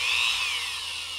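A power drill bores out an old rivet on a curved surface, a loud, sustained high whine with a slight pitch drift as the bit wobbles, heard alone without talk.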